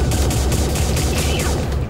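Rapid, dense gunfire from a video game about neon-mouthed aliens from space, a loud continuous volley of shots with no pauses over the whole stretch.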